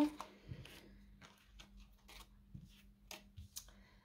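Tarot cards being shuffled for a reading give scattered soft slaps and riffles, close and quiet, with a low steady hum underneath.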